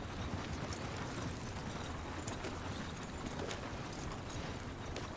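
Steady clip-clop of horse hooves in a Red Dead roleplay game, a continuous even rhythm against a dense, rumbling background.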